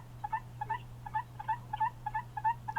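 Guinea fowl call in a rapid, repeating string of short two-part cries, close and fairly loud over a low constant hum outdoors.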